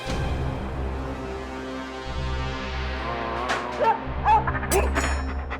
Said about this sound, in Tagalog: Bawal ang aso dito, Julie!